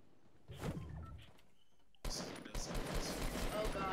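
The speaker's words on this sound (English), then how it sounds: "They're trying to shoot at me, but I'm not being very successful." Gunfire in a squad-based battle royale video game, a burst of scattered shots and thumps that drops briefly, then returns denser and louder as a sustained fusillade with a voice faintly underneath.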